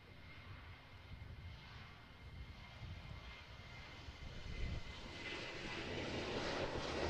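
A Ryanair airliner rolls for takeoff at Manchester Airport, its engine roar heard from a distance and swelling steadily louder toward the end, with no voices.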